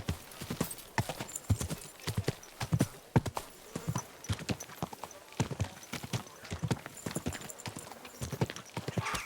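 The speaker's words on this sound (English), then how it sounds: "Easy, good horse." Horse hooves clip-clop in the video game Kingdom Come: Deliverance II, a close, rhythmic run of hoofbeats throughout, with a whinny and voices speaking over them.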